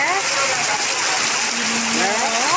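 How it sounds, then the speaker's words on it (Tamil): Heavy rain pours down steadily at the seashore, a dense, loud, unbroken roar of water with a voice faintly audible beneath it. "மழையை பாருங்க எப்படி பெய்யுது"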